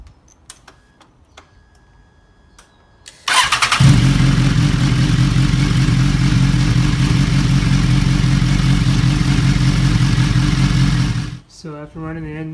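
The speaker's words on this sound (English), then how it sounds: "now we'll start it up and see if it ends up at about half" A BMW S1000RR sport bike engine cranks and catches after a few quiet ticks, then settles into a loud, steady idle with an even, rapid pulse for several seconds before cutting off, followed by a brief voice.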